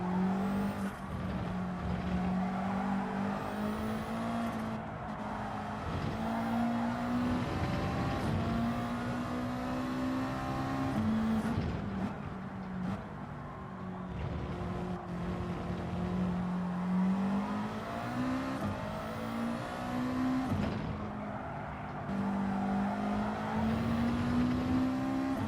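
Race cars lap Spa in a rainy Gran Turismo 7 race, with engines droning and revving continuously, pitch climbing and dropping through repeated gear changes and corners, at moderate level with no voices.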